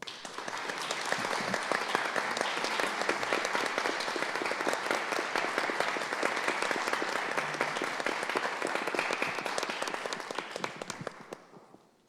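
Audience applauding for poets at a Spanish-language book presentation, a dense, sustained burst of clapping lasting about ten seconds before fading, with no clear talk over it.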